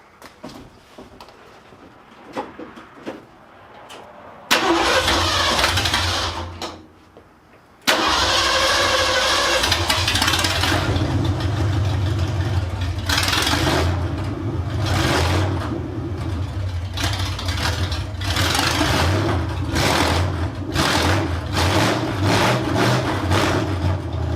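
A Ford 302 V8 in a bumpside Ford pickup with long tube headers and Thrush exhaust cranks and fires up with a loud roar, drops briefly, then catches again and idles roughly with repeated revs, close by and loud.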